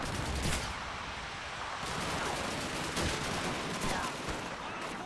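Rapid enemy MG machine-gun fire in the World War II shooter Call of Duty 2, a dense, continuous rattle of bursts that stays loud and close throughout with no pauses.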